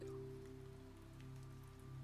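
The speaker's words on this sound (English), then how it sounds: "Rain moved down the window." Steady rain patters on a bus window on a wet night ride from Singapore airport, under a continuous low engine hum; even and close, no talking.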